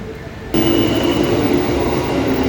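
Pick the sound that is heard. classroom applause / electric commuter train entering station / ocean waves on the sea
electric commuter train entering station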